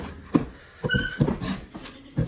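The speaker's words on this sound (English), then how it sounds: "And that squealing is probably one of the dogs that we have here." A dog squeals and whimpers in the background of a home, several short high-pitched yelps and whines spread over a couple of seconds, moderately faint.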